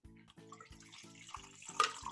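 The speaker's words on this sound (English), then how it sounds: "you're gonna strain that over your ice." A shaken cocktail being strained over ice into a glass, heard as a faint, close trickle of pouring liquid that builds slightly toward the end, with no speech over it.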